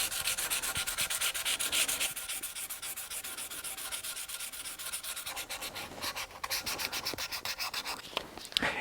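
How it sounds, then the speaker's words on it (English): A guitar's clear coat is dry sanded by hand with sandpaper on a hard eraser block, giving fast, close, rhythmic rasping strokes in a steady back-and-forth scrub with no talking. "Obviously, dry sanding generates a lot of dust"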